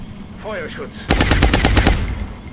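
Suppressive gunfire in the XCOM: War Within video game: a loud burst of rapid automatic shots in quick succession follows a brief stretch of quieter game sounds, with the volley lasting under a second.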